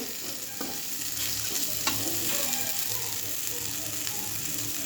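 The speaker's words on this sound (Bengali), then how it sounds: "পেঁয়াজ দিয়ে উচ্ছে ভাজাটা দারুণ লাগে বন্ধুরা" Bitter gourd frying with onion in a pan, hissing steadily and close while a spatula scrapes and stirs through it in occasional strokes.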